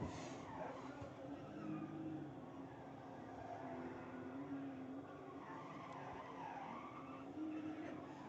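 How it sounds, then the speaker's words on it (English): A low-power drift car is clutch-kicked around the track during pro light qualifying at a drifting event in Emmett, Idaho. Distant tire squeal and engine revving blur together under a steady crowd and wind wash. "Hear him clutch kicking that low power car around the track."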